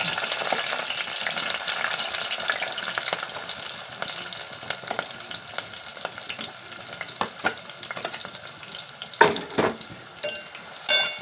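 Green chillies and onions frying in oil in a pan, a steady close sizzle with occasional stirring scrapes and a few louder knocks near the end.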